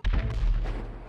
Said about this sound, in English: there's a random ass explosion right now.